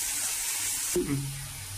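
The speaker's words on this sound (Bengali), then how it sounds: "এবার একটু নেড়ে চেড়ে ভাজা হতে দেবো সামান্য মিনিট দিয়ে।" Poppy seed paste for an egg posto curry sizzles steadily in a pan, then a sudden clatter and scrape as it is stirred, after which the frying hiss continues at a lower, duller level.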